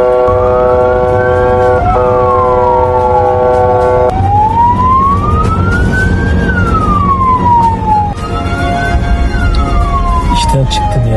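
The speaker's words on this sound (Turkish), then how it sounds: "arkada ambulans sirenleri açmış" A loud, close ambulance siren wails on Kurtalan road in Turkey, sweeping slowly up and down in long repeated cycles over a steady rumble of road traffic.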